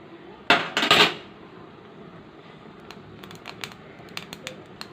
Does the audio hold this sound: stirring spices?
yes